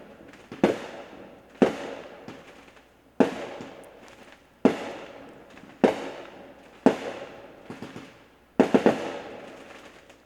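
Fourth of July fireworks bursting around a residential neighborhood: about seven sharp, loud bangs at uneven intervals, each trailing off in a crackling decay, with no voices.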